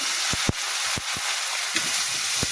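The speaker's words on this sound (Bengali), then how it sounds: "এবার আলু দিয়ে দিলাম।" New potatoes added to a hot pan to fry, giving a continuous close hiss with a few sharp knocks and scrapes scattered through.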